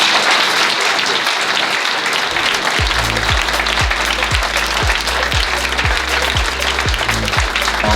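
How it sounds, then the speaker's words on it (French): An audience applauds at a retirement ceremony for a school director, loud dense clapping from a large crowd that settles partway through into rhythmic, unison beats. "je vous demande de l'applaudir"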